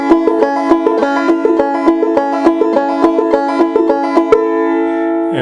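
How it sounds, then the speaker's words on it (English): A fretless clawhammer banjo plays a smooth round peak style stroke, an even run of plucked and brushed strings with a steady lilting pulse, close and bright, ending on a sustained chord. "the round peak stroke smooths out that bump ditty"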